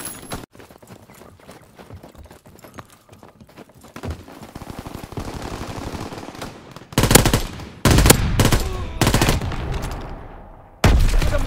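Rapid machine gun fire in Call of Duty WWII, loud close bursts that start and stop sharply, with quieter scattered shots and movement before them and no talking.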